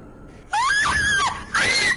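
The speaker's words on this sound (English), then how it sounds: "The children's screaming." Children screaming in the video game Rec Room, two loud shrill bursts with wavering pitch, close and harsh, separated by a short dip in level.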